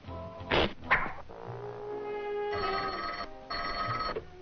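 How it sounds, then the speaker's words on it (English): A car phone rings in a cartoon: two bursts of electronic bell-like trilling sound close and clear. Brief thumps and clatter come before them. "get the commissioner on the car phone"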